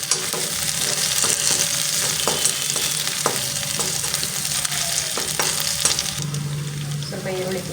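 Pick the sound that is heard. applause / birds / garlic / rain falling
garlic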